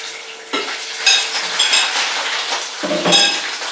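Shrimp sizzle loudly in a hot pan, with sharp bursts of crackling as pieces drop in, plus clinks of a utensil against the pan.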